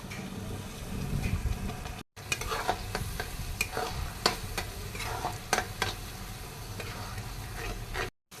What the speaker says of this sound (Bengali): আদা রসুনের পেস্টটা ভালোভাবে ভাজা হয়ে গিয়েছে